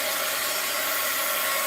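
A hair dryer blows steadily on craft paint, a loud, even broadband whoosh that runs unbroken from start to finish with no voices.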